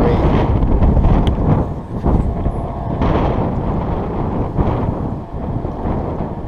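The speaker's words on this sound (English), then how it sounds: "I love the wind so much" Outdoors, wind buffets the microphone with a loud, continuous low rumble that swells and dips in gusts, and no voices can be heard.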